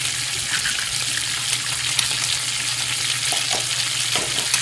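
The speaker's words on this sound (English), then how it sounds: "Pour the eggs from the bowl into the frying pan." Eggs sizzle and crackle in a hot frying pan, a steady close hiss with small pops throughout and no voices.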